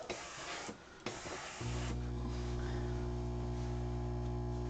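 A steam iron pressing one-yard pieces of quilt fabric for a pineapple quilt gives a loud, steady hiss that begins after a brief stretch of rustling and continues without a break to the end.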